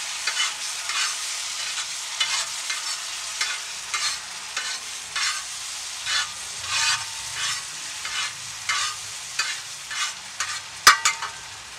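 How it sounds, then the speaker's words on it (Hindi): Prawns stir-frying in a pan for prawn Maggi with mixed vegetables, a loud crackling sizzle broken into regular bursts as a spatula tosses them roughly every half second, with one sharp metallic knock near the end. "चुंगड़ी अपने आप पानी छोड़ने लगी है, उसे हम भून लेंगे।"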